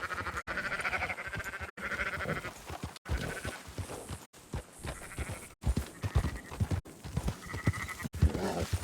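Sheep bleating in the Red Dead Redemption 2 game, several repeated bleats from a flock at moderate distance, with faint hoof clip-clop and ambient outdoor noise between them.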